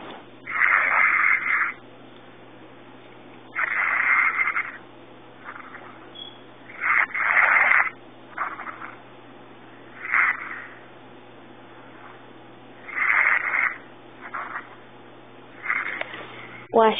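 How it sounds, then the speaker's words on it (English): A woman snores through a phone line, band-limited and tinny, with about eight slow, regular rasping breaths separated by quiet pauses. "she's on the phone snoring"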